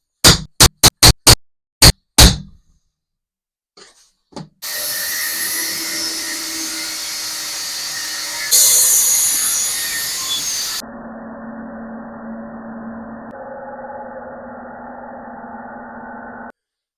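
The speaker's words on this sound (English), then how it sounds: "get the angle grinder out and start cutting" Angle grinder cutting steel pipe for end table fittings, several short loud bursts followed by long sustained high-pitched cutting passes, close and loud with no talking.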